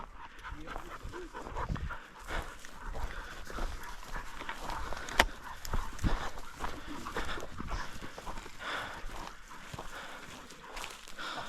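Bird dogs working a wild quail hunt in the field, with steady panting and snuffling, faint whimpers and rustling movement running close throughout, no talk.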